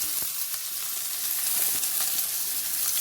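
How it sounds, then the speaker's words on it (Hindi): Onion frying in hot oil with whole garam masala for dhaba-style maash dal, a steady close sizzle and hiss throughout with no talking. "प्याज डाल देंगे"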